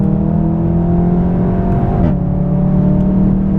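Car accelerating at full throttle on a driving track, a loud close engine drone with a steady rising pitch and a brief shift-like dip near the middle, no voices.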